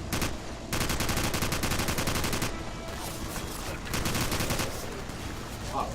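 Rapid automatic gunfire in the sandbox game Garry's Mod during a zombie fight, loud bursts of fast repeated shots in two main volleys with brief gaps and a further burst near the end.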